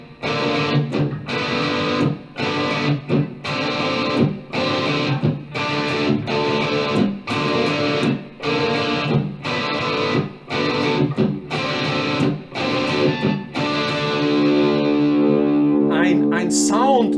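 Distorted electric guitar plays a metal rhythm riff with open, unmuted strums, loud and continuous through an effects chain, with choppy rhythmic stops and a sustained ringing chord toward the end, followed by a squealing slide.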